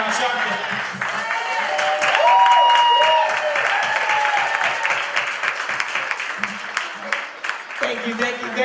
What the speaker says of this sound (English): Let's stand to our feet and clap up our leader, Reverend Al Sharpton.